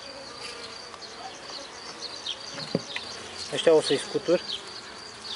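Bees buzz steadily in a queenless hive, a close, continuous insect hum with louder swells near the end and a short stretch of speech over it.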